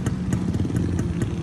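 A Kawasaki HD3 140 Betamax-model motorcycle engine idles close by, a loud, steady, rapid putter with faint rhythmic clatter and no talk.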